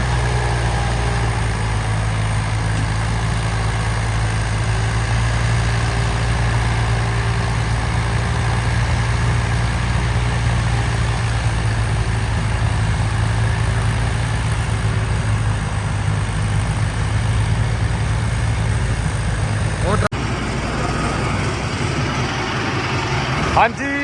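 A tractor engine runs steadily at close range on farmland in cold, foggy weather, a constant low idling rumble that continues throughout with a brief shift near the end.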